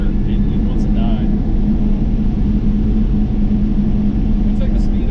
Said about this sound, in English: If I give it any throttle past like a quarter, it wants to die.